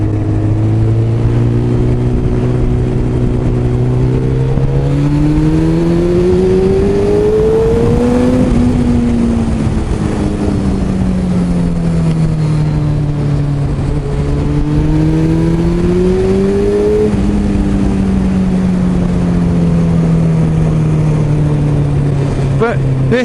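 A 2008 Suzuki Hayabusa motorcycle engine accelerates, its loud, close whine climbing and falling through several gear changes as it pulls steadily for over twenty seconds.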